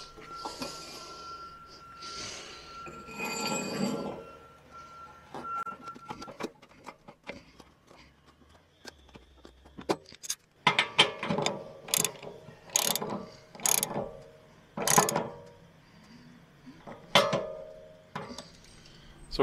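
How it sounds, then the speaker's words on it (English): A plug wrapped in Teflon tape is screwed into an RV fitting during de-winterizing, producing close ratcheting clicks and metallic clinks in uneven bursts after a quieter stretch of handling noise. "and then we're just going to screw it in."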